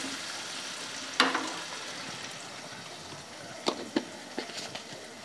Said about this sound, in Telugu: పసుపు వేసుకోవడం వల్ల ఇందులో నీచుదనం అంతా పోతుంది. కాసేపు వేగనిస్తాను.